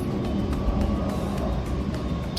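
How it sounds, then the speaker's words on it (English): A steady, broad rumble of an airplane passing overhead fills the background, continuous and fairly loud with no distinct breaks. "such as the plane that's passing overhead right now."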